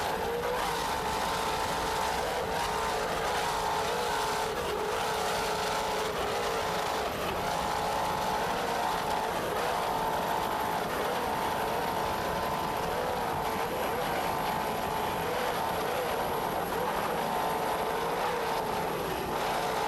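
Offshore racing powerboats in a D class heat off Virginia Beach roar continuously with Zool power plants, a dense, steady, distant engine drone with wind and water noise and no talk.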